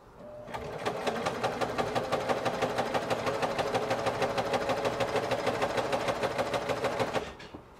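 A sewing machine stitches steadily across a fabric strap for about seven seconds, with a close, even, rapid needle clatter that starts and stops cleanly.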